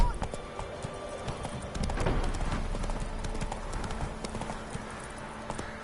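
Horse hooves clip-clop steadily at a riding pace in The Witcher 3 game, a continuous rhythmic patter with a voice speaking over part of it.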